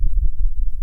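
A synthesized thunder-like transition effect rolls low and dark, with two quick thumps at the start followed by a continuous deep rumble that ends abruptly.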